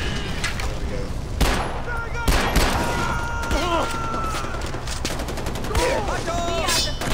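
Gunfire in the shooter Far Cry 4, a steady stream of sharp shots and bursts over dense battle noise, with someone talking briefly over it.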